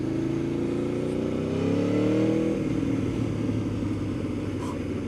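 A 2011 Aprilia Tuono V4 APRC motorcycle's V4 engine revs steadily and loudly up close, its pitch climbing and then easing back to a deep, sustained rumble throughout.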